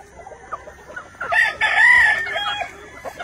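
Hatch Grey gamefowl hens on a farm in the Philippines, with a short, fairly close burst of loud clucking calls in the middle amid quieter background noise.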